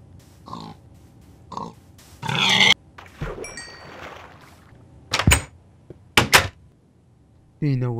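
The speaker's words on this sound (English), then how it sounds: "Hey Hunter, I'm gonna go get some pigs out there." Pigs grunting and squealing in short, loud bursts spread across the clip, with thumps and knocks in between and a voice near the end.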